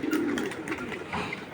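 A small group of four or five pigeons coos close by in a short burst of low, throaty notes.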